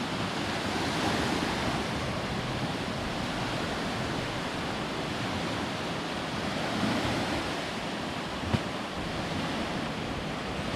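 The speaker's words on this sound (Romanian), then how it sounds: "Și în largă, valurile sunt mari." Big ocean waves roll on the open sea off Gili Air near Lombok, a steady broad roar of surf mixed with wind buffeting the microphone, constant and fairly loud with no talk.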